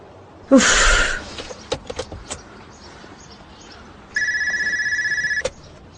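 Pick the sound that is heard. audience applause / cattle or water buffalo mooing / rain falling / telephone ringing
telephone ringing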